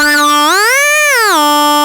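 A loud, buzzy Behringer Odyssey synth tone swoops upward in pitch, holds briefly, then glides back down before cutting off.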